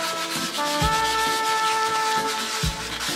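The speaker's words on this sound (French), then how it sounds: "Ensuite, on ponce tout." Steady abrasive sanding across a resin-coated kitchen countertop, a continuous rubbing rasp with a power-tool hum underneath and a few heavier strokes, close and loud with no talking.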